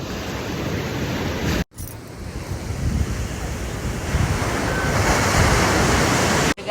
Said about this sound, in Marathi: खूप थंडगार मोसम आहे, खूप सुंदर लाटा सुटले.